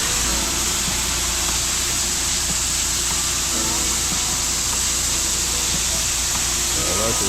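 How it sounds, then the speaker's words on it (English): A pressure washer sprays soap through its soap nozzle onto a pool cage, giving a loud, continuous broadband hiss that stays steady throughout, with no pauses. "That's gonna be the soap nozzle. And we're gonna apply the soap on the cage"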